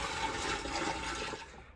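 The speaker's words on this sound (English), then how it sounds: "I'm gonna run a few buckets of water through the bilge" Water from buckets gushes loudly through a boat's bilge in one continuous rushing pour lasting under two seconds, close by and with no talk.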